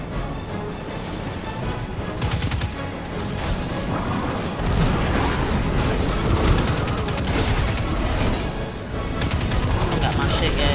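Sustained, dense gunfire and explosive booms in the sci-fi shooter Destiny 2 during a hectic firefight, a nearly unbroken wall of loud rapid shots and blasts with no pauses.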